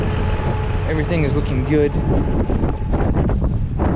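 Heavy wind buffeting the microphone in a field during corn and soybean planting, a constant low roar, while a person speaks briefly over it.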